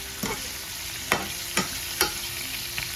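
Mackerel and sardines being stirred in a hot pan for a Jamaican mackerel and breadfruit dish, with four or five sharp scraping strokes over a steady background sizzle, close and fairly loud, no talking.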